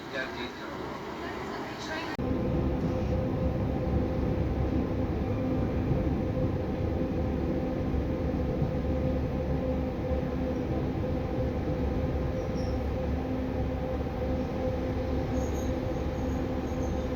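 A train at a small, minimal local station in Taffs Well: a sustained loud rumbling drone with humming tones begins after about two seconds and continues steadily, with a faint high squeal of wheels over it, preceded by quieter ambience.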